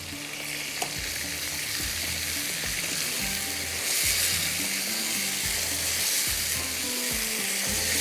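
Ginger and garlic are stirred into a simmering potato korma gravy, a close, steady sizzle and bubbling with repeated scraping knocks of a spoon against the pot throughout.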